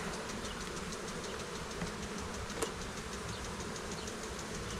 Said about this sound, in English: these bees have been pretty calm, really